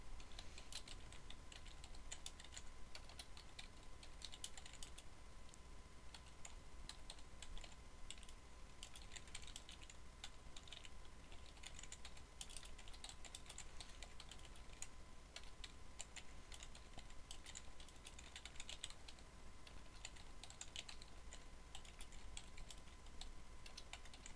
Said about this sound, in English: now Alan can enter in some information about this image